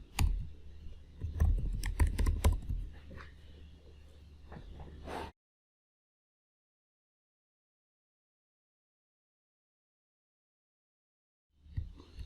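Rapid clicks of keys on a computer keyboard as a command is typed, a close, busy burst of keystrokes lasting about five seconds, then silence before a few more taps at the end.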